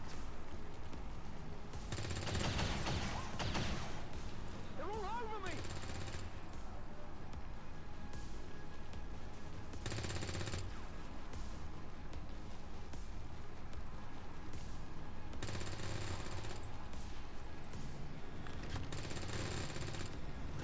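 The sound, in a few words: suppressing fire from guns in the video game XCOM 2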